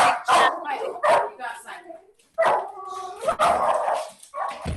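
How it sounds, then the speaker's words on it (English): A pet dog barks in a home setting, several loud close yaps and bow-wows breaking through a person talking over them. "Sorry, that's my dog."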